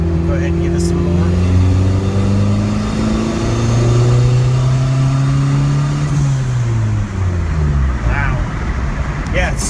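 Turbocharged car engine with a newly welded downpipe, revved close by: loud, sustained revs rise and fall in several waves while people talk over the engine.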